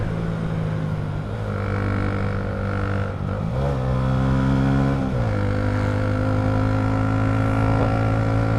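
A manual motorcycle engine climbing uphill after a downshift, a loud close steady hum whose pitch dips and jumps at gear changes, then settles into a sustained higher note.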